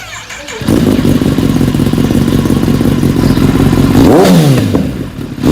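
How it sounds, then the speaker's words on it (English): A Kawasaki Ninja ZX-10R sport bike with a JP Racing full exhaust system rumbles at a loud, close idle, then revs up sharply and drops back down near the end. "this bike also installed the JP Racing full set exhaust system, and this sound is so nice."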